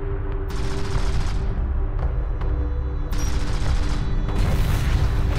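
Sustained weapons fire in the desert strategy game Homeworld: Deserts of Kharak, dense bursts of shots and booms rolling on under a steady low engine drone, loud and continuous with brief lulls.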